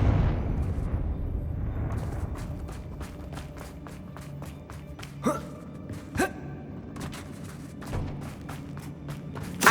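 Confringo spell blasts in the Hogwarts Legacy video game: several sharp bursts and thuds ring out amid a steady rumble of game ambience, with a string of rapid clicks and a gasp-like breath early on.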